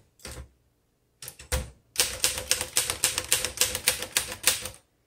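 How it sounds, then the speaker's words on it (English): Keys of a 1928 Royal 10 antique typewriter struck one by one, a few separate clacks and then a steady run of about a dozen loud, close, crisp strikes at an even rhythm, with no voices. "I can tell that you need a lighter hand for this typewriter."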